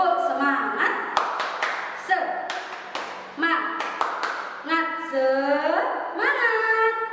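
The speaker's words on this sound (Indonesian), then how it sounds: "Kita beri tepuk semangat. Tepuk semangat." A classroom group performs a rhythmic spirit clap (tepuk semangat), sharp patterned claps falling between chanted voices that sing along in time, close and lively.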